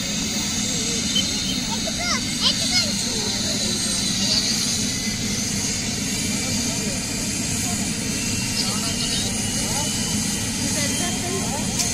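A helicopter lifts off at Vemulawada, its engine and rotor making a loud, constant broadband roar that fills the whole stretch, with crowd voices faintly mixed underneath.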